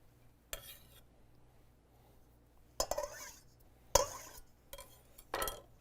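Chopped mixture stirred in a bowl with a utensil in a home kitchen, giving a few separate bursts of scraping and clinking, close and fairly quiet, with no voices.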